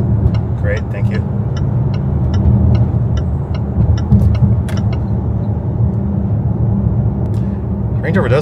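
A Range Rover towing an empty trailer drives with a steady low engine and road rumble, a regular light ticking over the top and some talking inside the cabin.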